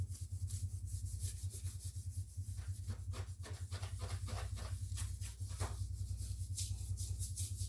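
A kitchen wire brush scrubs scale off bathroom floor tile in quick, steady back-and-forth strokes, a close, continuous gritty rasping that runs the whole time over a low steady hum.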